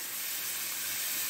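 Garlic-ginger paste hitting hot oil in a pan for a restaurant-style egg curry, a brief steady hiss of sizzling, fairly quiet and close.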